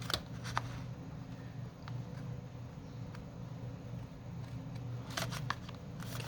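Scissors cutting paper along the edge of an envelope, soft snips at the start and a quick cluster near the end over a low, steady background hum, close and quiet, with no talking.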